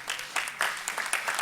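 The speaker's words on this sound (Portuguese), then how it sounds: "eu queria oferecer para você uma salva de palmas" Short burst of audience clapping at a post-polio symposium in Brazil, steady and moderately loud with no talk over it.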